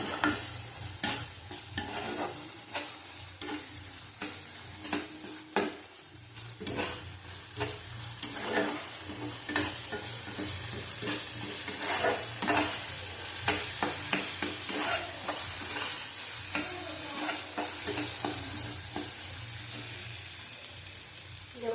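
Spice masala with cumin powder is sautéed in oil for a prawn dish cooked with milk, a continuous close sizzle broken by frequent rhythmic scrapes and stirs of the spoon against the pan.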